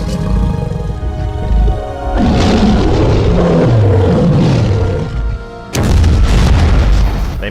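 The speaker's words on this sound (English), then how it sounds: "They manage to blow up the T-Rex" Movie explosion blowing up a T-Rex, heavy low rumbling booms with roaring, growling layers and a second loud burst near the end, dense and loud throughout.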